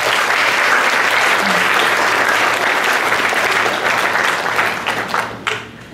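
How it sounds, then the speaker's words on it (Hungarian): Sustained applause from an audience at a school art department's end-of-year ceremony, a dense wash of many hands clapping that holds steady, then thins and fades out near the end. "Tapsoljuk meg!"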